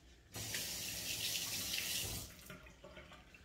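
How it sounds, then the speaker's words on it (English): Tap water runs into a kitchen sink as hands are rinsed mid-baking for brownies, a steady close gush that cuts off after about two seconds, leaving faint drips and handling noises. "I gotta rinse my hands."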